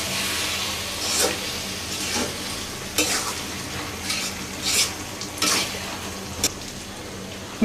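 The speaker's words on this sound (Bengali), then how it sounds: "নিয়ে একটু ভালো মতো মিলাই দেই" Food being stirred and mixed in a pan with a spoonful or two of oil, giving a steady sizzle with repeated scraping sweeps of a utensil, close and fairly loud; no one speaks.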